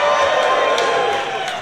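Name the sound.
audience cheering at a beetleweight robot combat championship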